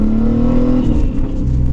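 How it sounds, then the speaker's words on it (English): A car engine drones loudly and steadily, with a rising whine that drops away partway through as traffic passes by close to the microphone, with no talking. "Traffic always ruins the fun,"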